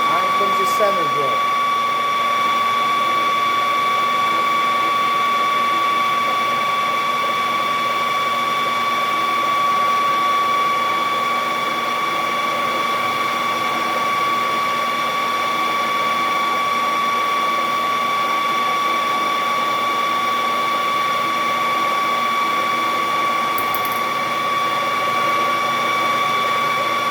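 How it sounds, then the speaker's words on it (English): Center drill boring into a knob blank for a CO2 laser table on a lathe, a continuous close mechanical whine with steady tonal hum that barely changes over the whole stretch. "center drill it with a center drill"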